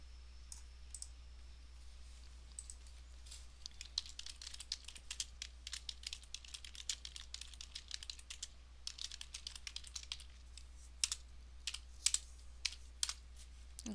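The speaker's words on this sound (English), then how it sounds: "start typing program name" Typing on a computer keyboard while writing Pascal code in an online compiler: quiet, steady runs of close key clicks with a low hum underneath, picking up pace toward the end.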